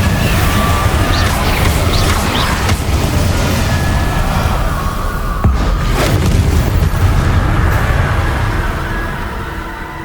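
An Incendio fire spell cast in the Hogwarts Legacy video game, a loud continuous roaring rush of flame with deep booming rumble, crackles and a sharp burst midway, tapering off at the close.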